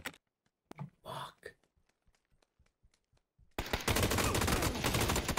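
Scattered faint clicks and brief talk give way to a sudden, loud, continuous burst of automatic gunfire in PUBG that lasts to the end.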